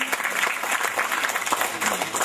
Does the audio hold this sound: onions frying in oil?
no